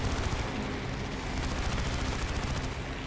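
Steady rapid gunfire from aircraft guns in War Thunder, a continuous dense rattle of rounds held at an even, fairly loud level for the whole few seconds, with no talking over it.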